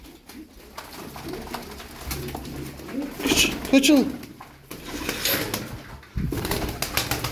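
Kepez tumbler pigeons cooing in a loft, soft repeated coos and some rustling heard under someone talking close by.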